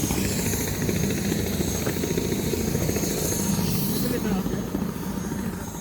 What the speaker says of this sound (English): this chopper that just ran up the Namche is what I'm going to be getting on